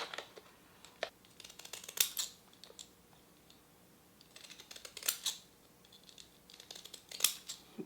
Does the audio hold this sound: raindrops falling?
no